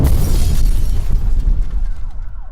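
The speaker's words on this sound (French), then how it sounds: "une explosion se produit dans un appartement à la rue Blanche à Carouge" Explosion in an apartment, a loud booming burst with a crackling, shattering decay that fades over about two seconds, heard alone with faint tonal sweeps trailing at the end.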